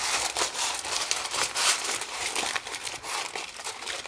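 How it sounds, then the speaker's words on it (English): Aluminum foil crinkling and rustling up close as it is pressed into a frozen pie shell, a continuous irregular crackle with brief sharper crunches and no voices. "I can take it out of the freezer and line it with foil"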